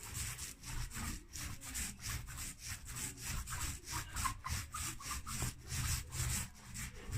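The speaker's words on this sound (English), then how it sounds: "So we've got one coat of undercoat going on." A brush applies undercoat paint to a textured ceiling in steady, rhythmic back-and-forth strokes, close and fairly quiet, with a regular scraping swish and no talk.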